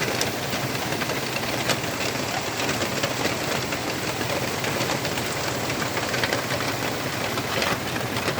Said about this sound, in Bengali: একদম সকাল সকাল বৃষ্টি চলে এসেছে।